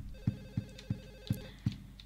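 A telephone rings inside the survival horror game Silent Hill 4: The Room, sounding five short regular bursts that repeat roughly every third of a second over a quiet electronic hum, with no voices.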